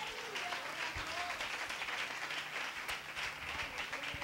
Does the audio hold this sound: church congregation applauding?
yes